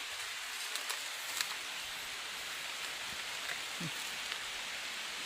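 Steady rain falls continuously with a dense, even hiss and scattered drops, heard alone without talking.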